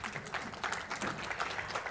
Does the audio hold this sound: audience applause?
yes